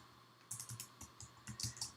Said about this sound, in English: I'm going to end up typing it after all